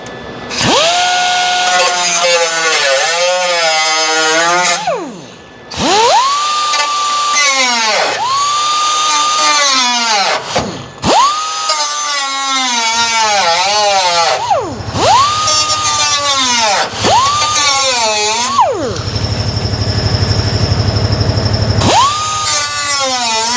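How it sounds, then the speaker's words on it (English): A cutoff wheel slicing through a sheet-metal patch gap around a car's headliner bow, whining loudly in repeated bursts that rise to a steady high pitch and dip between passes, close up with no talking. "I'm gonna take my cutoff wheel and I'm just gonna run it through there real quick, open that up"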